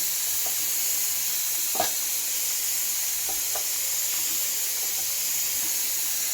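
Onions and chillies frying in a pan for a mixed vegetable curry, a constant hissing sizzle close up with a few faint clinks of a spoon, no voices.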